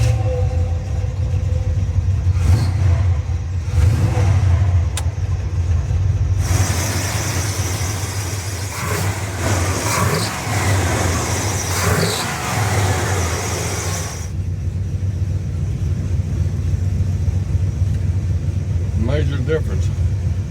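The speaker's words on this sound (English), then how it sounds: "Brian, ready to take for a little drive?" A 1956 Chevy truck engine rumbling as it pulls away for a drive, a steady low drone throughout with louder revving in the middle, with people talking over it.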